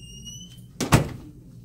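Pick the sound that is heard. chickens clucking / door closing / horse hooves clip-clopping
door closing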